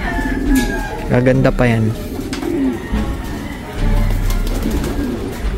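Young brown tiger pigeon, still molting, cooing in repeated soft throaty phrases close by, with a person talking over and between the calls.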